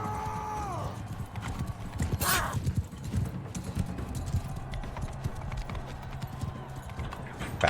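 Horse hooves clip-clop steadily in a galloping rhythm during a battle in the Mount & Blade 2: Bannerlord video game, close and continuous, with a brief whinny and faint talk over the top.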